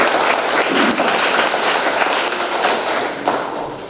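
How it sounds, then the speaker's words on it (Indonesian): A seminar audience breaks into applause, dense steady clapping from a crowd lasting several seconds, fairly loud and close. "Boleh kita aplaus lagi untuk Miss Yesta."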